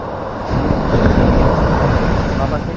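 Large ocean waves around a small fishing boat at sea after a storm, a loud, continuous rushing surge with wind buffeting the microphone, building after a brief quieter opening and holding steady throughout.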